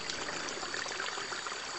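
Mineral water streams steadily from a spring pipe at a mineral water project site, a continuous close splashing rush with no voices.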